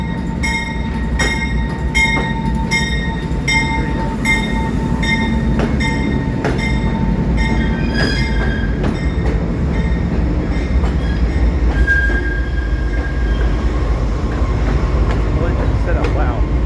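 Steady rumble of a diesel-hauled passenger train rolling along the rails, with rhythmic wheel clicks, occasional squeals and a sustained engine drone, heard from on board while people talk intermittently.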